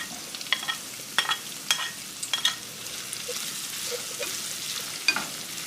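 Chilli sauce and tomato sauce being stir-fried in a pan for a beef soy-sauce dish: a soft, constant sizzle broken by about eight sharp spatula scrapes and stirs at irregular intervals, close by and without talk.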